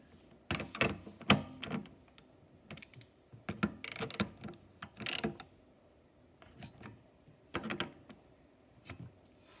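Hand tightening of screws and 10mm bolts on the electric start of a Troy-Bilt Storm 2410 snowblower: irregular bursts of clicking and ratcheting, close and fairly quiet, separated by short pauses.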